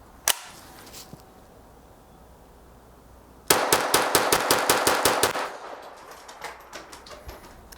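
A Kriss Vector KV22 .22LR pistol firing Winchester M22 ammunition lets off a couple of single shots, then a quick run of about ten sharp, loud reports in rapid succession, close by, with no talking.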